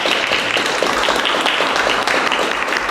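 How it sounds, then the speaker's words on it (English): An audience at a Harrisburg health partnership event applauds, a dense, steady burst of many hands clapping at once for a few seconds. "I'm going to clap for us."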